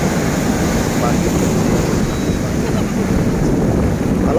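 Continuous broadband roar of ocean surf on a beach, loud and steady with wind buffeting the microphone, waves breaking without distinct individual crashes.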